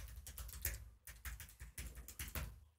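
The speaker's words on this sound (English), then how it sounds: "I will create a new user. I will call it Marek. Password." A password being typed on a computer keyboard while setting up a new Arch Linux user: a quick, close run of soft clicking keystrokes, quiet, with a brief pause partway.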